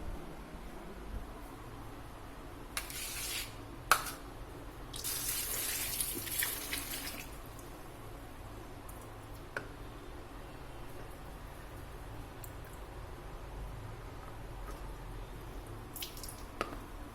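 Running tap water over carrots and potatoes in a kitchen sink, a soft steady stream with occasional drips and a brief louder gush of splashing as the vegetables are rinsed.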